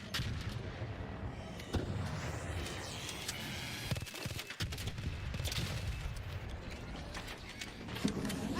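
Rapid bursts of gunfire in the video game Arc Raiders, a dense, continuous clatter of repeated shots and mechanical crackling that runs loud through the whole stretch with no voices.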